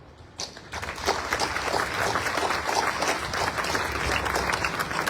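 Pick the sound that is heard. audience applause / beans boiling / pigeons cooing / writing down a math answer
audience applause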